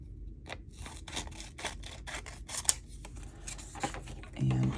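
Scissors cut a Post-it note up close, making a quick series of crisp snips in an uneven rhythm, with brief paper rustles and a short moment of speech toward the end.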